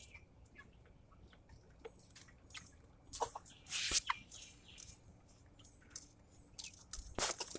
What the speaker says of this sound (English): Doing what chickens are supposed to do.